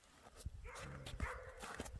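A dog in a snowy outdoor camp gives soft, quiet yips and short barks, a few scattered bursts over a low background at a moderate distance, with no talk.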